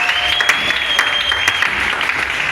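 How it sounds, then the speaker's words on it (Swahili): A church congregation claps steadily and enthusiastically in a dense, continuous round of applause, with a sustained tone ringing through it. "Pigie Yesu Kristo makofi,"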